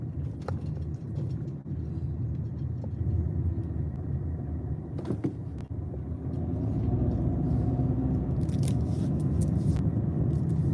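A struggling car makes a low, continuous rumble while driving, with scattered clunks and scrapes, growing slightly louder and rougher toward the end.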